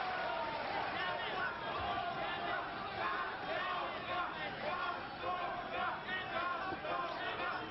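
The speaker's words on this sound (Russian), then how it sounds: "Вы слышите, как, наверное, члены нашей сборной там скандируют «Боря, Боря»." Team members and fans chant continuously in a packed arena during a 1972 Olympic boxing bout, a loud, dense roar of crowd voices with rhythmic shouting throughout.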